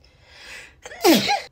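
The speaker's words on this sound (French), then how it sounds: "à chaque fois que je spray quelque chose autour de moi, ça me fait éternuer" A single sharp sneeze from a woman, set off by spraying something nearby, preceded by a faint breathy intake and then a quick loud burst, close to the microphone with no talk.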